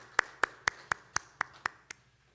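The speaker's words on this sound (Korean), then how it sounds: "함께 하나님 앞에 영광의 박수 올려드리겠습니다." A church congregation claps in unison, eight crisp evenly spaced claps in a slow steady rhythm, fairly faint against a quiet room, the last one trailing off.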